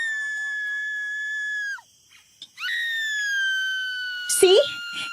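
A loud woman's scream rings out through a forest, one long sustained wailing cry that breaks off, then starts again and wavers before ending in a burst of shrill sobbing noise. No one talks over it.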